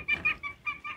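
Bantam chickens and roosters at a breeding farm giving four quick, close clucks in an uneven rhythm, fairly soft.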